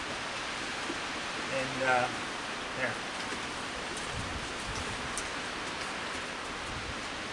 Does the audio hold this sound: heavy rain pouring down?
yes